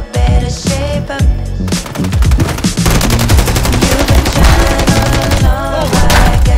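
Rapid bursts of automatic gunfire rattle loud and close, dense volleys of sharp shots continuing almost without pause, with a few tonal sounds mixed in behind.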